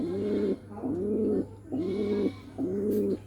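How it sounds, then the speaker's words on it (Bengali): A Giribaz pigeon about to lay eggs coos close by in four rhythmic, evenly spaced rolling calls, clear and alone with no talk. "দেখুন কি সুন্দরভাবে ডাকে আর কি। এটা ডিম পারবে তো তাই ডাকতেছে।"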